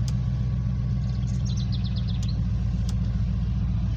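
A Ford truck engine idles steadily after starting, a low even rumble close by with a few faint clicks and ticks over the top.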